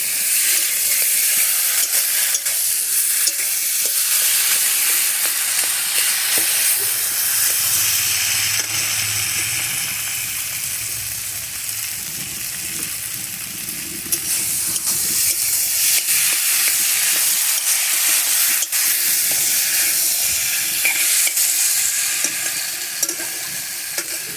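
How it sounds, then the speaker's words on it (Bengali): Dried fish curry frying in a pan for a Sylheti-style dish, with a steady close sizzle and hiss and occasional stirring scrapes throughout, no talking. "এবার এটা খুব ভালো করে কষিয়ে নিন"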